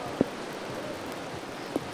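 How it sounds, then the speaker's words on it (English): Heavy rain drumming steadily on a vinyl tent roof, a dense continuous hiss close overhead with two brief louder thumps, no voices. "we're in a vinyl type structure and it's very loud with the rain."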